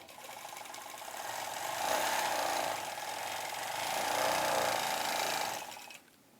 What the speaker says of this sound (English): Just take a couple of stitches there so I can start.